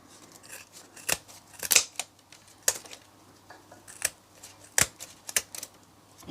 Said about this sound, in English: So what you want to do then is cut off all of the excess material.